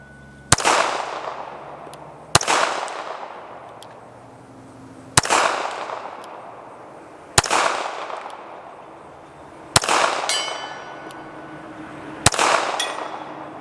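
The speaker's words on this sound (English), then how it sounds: "2 shots out of 7 at 100 yards, I'll take it." Six sharp shots from a Beretta 1934 pistol fired outdoors at a target 100 yards away, each crack spaced about two seconds apart and trailing off in a long echo, with no talking.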